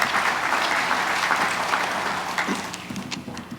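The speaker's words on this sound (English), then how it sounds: "Ladies and gentlemen, your applause, please" An audience at a Blue Origin launch event at Cape Canaveral breaks into steady, dense applause that slowly tapers toward the end.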